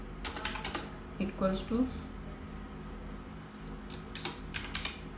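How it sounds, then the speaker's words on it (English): Python code for a GUI age calculator is typed on a computer keyboard in short bursts of crisp key clicks, while someone speaks over parts of it. "so let's type my image"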